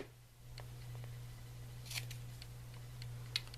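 Scissors snip off excess washi tape in a quiet room with a steady low hum, giving a few faint, sharp clicks and one louder crisp cut near the end.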